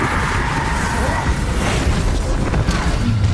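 A Bombarda spell explosion in Hogwarts Legacy, a loud booming blast with crackling, debris-like bursts rolling on for several seconds amid dense battle noise.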